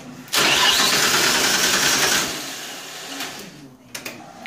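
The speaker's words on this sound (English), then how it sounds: "you can turn the key, start, well, I'll show you. Right, probably won't start fully" The RB25 engine in a Locost Skyline kit car cranks loudly and close by with a fast rhythmic starter churn for about two seconds, then drops to a fainter uneven turning as it fails to catch.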